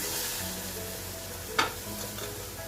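Steady hiss of a sugar-filled flatbread frying in hot ghee, with a brief louder crackle partway through and faint stirring scrapes.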